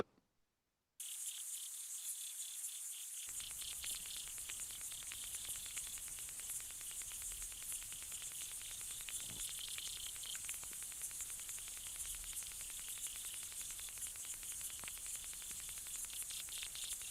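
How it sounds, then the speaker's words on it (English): A dense, steady chorus of rapid ticking and buzzing stridulation from aquatic insects underwater in a pond, continuous and fairly loud, with no voices. "This is a sound made by aquatic insects."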